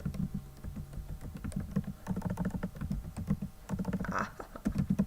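Fingers type quickly on a computer keyboard, giving a steady, close stream of light clicking keystrokes with short pauses in between.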